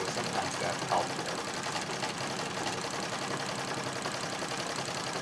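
Singer 66 treadle sewing machine doing free-motion quilting on a big full-size quilt, a continuous fast mechanical whirring and needle chatter, steady and close, with faint background noise.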